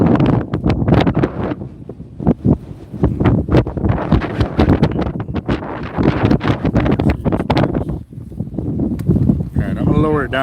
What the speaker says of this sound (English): I can hear the wind getting heavier